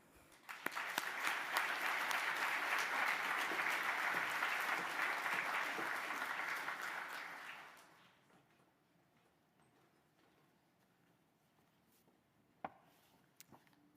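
An indoor audience at an engineering hard hat ceremony applauds warmly to welcome a speaker. Dense clapping builds quickly, holds for several seconds, then fades to a quiet room with a couple of small knocks.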